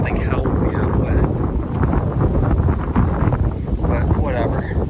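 Strong gusty wind at 25 to 30 mph on a wet golf course, roaring continuously and loudly across the microphone as steady buffeting noise with no break.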